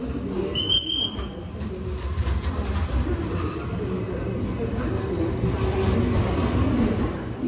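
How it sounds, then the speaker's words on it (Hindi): A Vande Bharat train pulling into a station on the Katra–Delhi route, with steady rumbling wheels and metallic squeals, a brief high screech early on, and faint crowd murmur in the background. "वंदे भारत आ गई है।"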